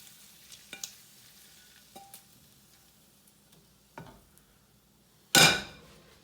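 Eggs cook in a pan for an Italian omelette amid scattered light clicks and scrapes of utensils, ending in one loud clattering sizzle burst near the end.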